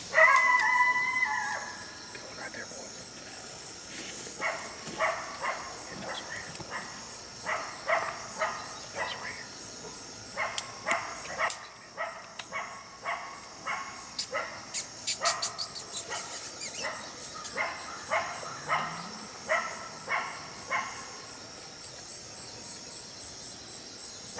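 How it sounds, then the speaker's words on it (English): A coyote gives a warning bark howl: a long series of sharp, rhythmic barks at moderate distance, some rising into yips, over a steady background of crickets and insects outdoors at night. "this coyote gave a warning bark howl"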